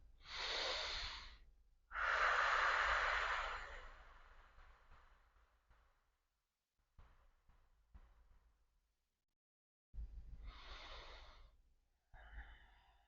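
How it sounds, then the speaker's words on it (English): A slow, deep breath during a guided meditation: a close, long inhale and exhale, followed by quiet pauses and another breath cycle, with no talking. "Take a deep breath."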